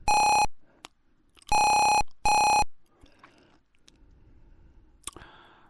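Three loud electronic beeps from the ZX Spectrum game Juggernaut as a phone call is placed, each a steady harmonic tone about half a second long with short gaps, followed by faint clicks and a brief burst near the end.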